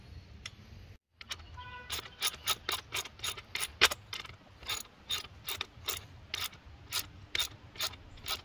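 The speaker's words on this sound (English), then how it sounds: "Now we can tighten the screws." Screws are tightened while a seat structure is installed. A tool gives rapid, evenly spaced ratcheting clicks close by, running in short bursts with brief pauses, and no one speaks.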